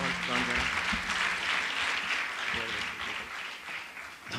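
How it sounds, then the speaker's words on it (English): An audience claps at a community health service celebration in New Jersey, a steady wash of moderate applause that continues throughout and fades slightly toward the end. "Please give him a big round of applause, Mr. and Mrs. Atul and Lata Shah."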